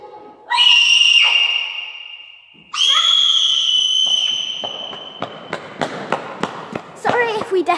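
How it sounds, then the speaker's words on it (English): Children in a tennis barn screaming as loud as they can, two long piercing shrieks in turn, followed by scattered sharp bangs, claps and laughter. "who can do the loudest scream?"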